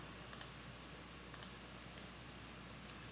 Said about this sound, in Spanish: vamos a darle clic derecho, vamos a ejecutar